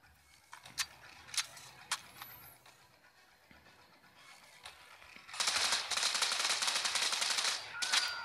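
Automatic gunfire in the mobile shooter Modern Combat Versus (beta): a few sharp isolated shots early on, then a loud, sustained rapid-fire burst lasting several seconds near the end, with no talking.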